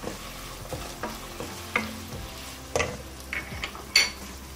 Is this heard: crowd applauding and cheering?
no